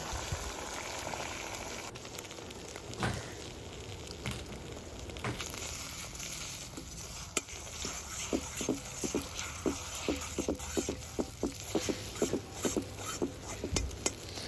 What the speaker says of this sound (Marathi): तेल गरम झाल्यानंतर इथे मी 4 अंडी घेतलेले आहेत फेटून, ती अंडी आता तेलामध्ये सोडून देऊया।